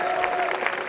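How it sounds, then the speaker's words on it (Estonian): An audience claps for a band at a school spring festival concert, a brief burst of dense, even applause from a crowd. "Teeme suure aplausi meie bändile ka!"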